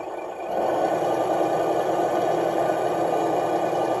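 Simulated generator engine noise from a sound unit swells after a brief quieter start, then holds a louder, steady revving drone with slight rattling vibration throughout.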